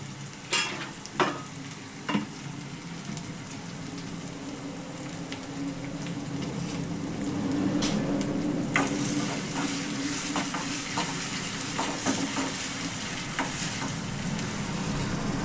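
Amaranth leaves with onion cook in a pan, giving a steady sizzle and frying hiss that grows denser partway through, with a few sharp stirring clatters near the start and scattered ticks later.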